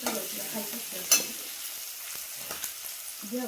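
Chopped tomatoes sizzling and frying in a pan for a vegetable dish, with scraping stir strokes and a sharp clank near the start, the sizzle steady and close throughout.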